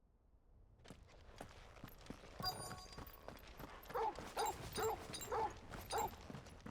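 A dog in the video game Final Fantasy XVI gives a series of about five short, evenly spaced barks over soft footsteps and clicking game mechanisms, moderately close but not loud.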